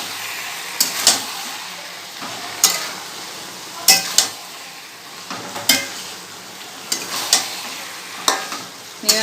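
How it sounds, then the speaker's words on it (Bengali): Ridge gourd and potato curry sizzles in a pan while a spoon stirs it at a slow, irregular rhythm, each stroke giving a bright scrape over the continuous frying hiss, close and fairly loud, with no talking. "ভালো করে নেড়ে দিই।"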